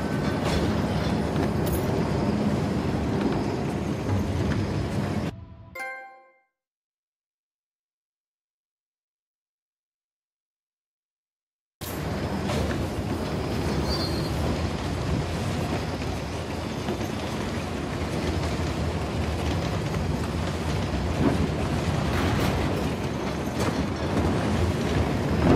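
A hijacked train rolling along in Uncharted The Lost Legacy, a steady rumbling rail noise that cuts to full silence for several seconds and then resumes just as loud.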